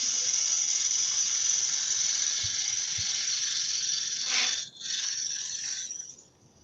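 A lathe tool cuts a wood spindle in a steady, continuous hiss with a bright whirring edge, holding even for about six seconds with one brief dip before it cuts off near the end.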